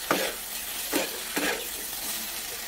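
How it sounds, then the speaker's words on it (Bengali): Vegetables and a katla fish head are stirred in a sizzling pan, three distinct scraping strokes spaced about half a second apart over a soft, steady frying hiss. "সবগুলো একসাথে নেড়ে দেবো।"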